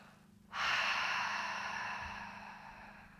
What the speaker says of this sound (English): Let your breath out.